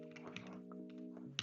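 Fingers type on a computer keyboard during an Angular programming session, light scattered key clicks over a steady tonal hum in the background.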